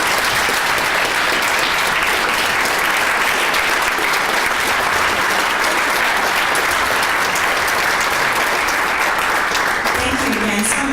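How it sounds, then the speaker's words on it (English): Enthusiastic audience applause at a storytelling event, dense sustained clapping from a full room that stays loud and even throughout, with a few voices rising near the end. "Let's give one more round of applause."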